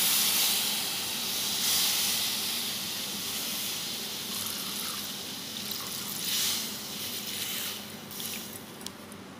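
The rest of a Frooti mango drink is poured into a hot pan while making kulfi, giving a steady, close hiss of steam and liquid with soft sizzling swells and no talking.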